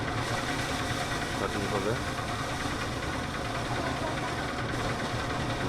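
Engine of a paddy threshing machine running steadily with a dense, continuous mechanical drone and vibration, while a person talks over it.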